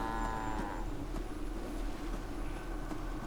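Brahmin cattle in the game Fallout 4 moo from a farm yard, one long low bellowing moo at the start over a steady droning ambient background, with no talking.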